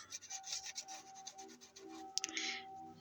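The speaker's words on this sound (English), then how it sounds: "I'm gonna just dab my finger in there and kind of rub this on there over the stencil" A fingertip rubs liquid ink goop over a stencil while decorating a mini junk journal, giving a soft, close scrubbing and rasping texture in uneven strokes, with a brief sharper scrape near the end and no talk.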